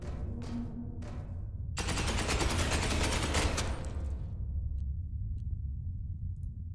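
Rapid bursts of squad gunfire in the sci-fi tactics game Space Hulk Ascension, a few short sharp shots followed by a sustained rattling volley that fades into a low rumble.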